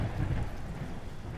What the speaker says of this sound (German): Gewitter!